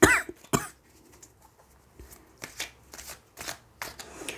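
Tarot cards riffled and shuffled in several quick, close bursts, with soft pauses between each rustling flurry.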